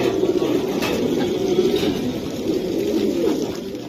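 Giribaz pigeons in a loft, a steady low cooing murmur from several birds close by, continuous throughout with faint rustling behind it.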